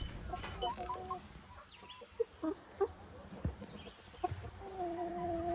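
Chickens cluck and murmur nearby, with scattered short calls over a steady background hum and no talking.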